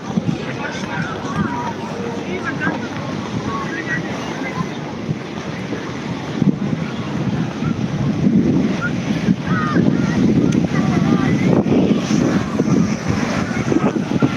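Sea waves wash continuously onto a beach with strong wind buffeting the microphone, and people talk and play in the water throughout.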